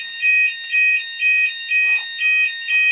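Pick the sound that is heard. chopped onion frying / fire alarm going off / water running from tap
fire alarm going off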